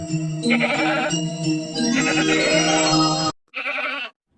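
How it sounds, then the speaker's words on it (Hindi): A goat bleats in a long, wavering cry, then gives a shorter bleat after a brief pause, loud and close. "यह तो बकरी के चिल्लाने की आवाज है"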